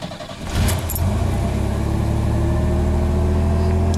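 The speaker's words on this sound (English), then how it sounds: "This is going to be a cold start. It's been over 24 hours." A Chevy S10 pickup with suspected charging system or battery trouble cold-starting after sitting over 24 hours: a brief starter crank catches into a loud, close, steady idle that holds to the end.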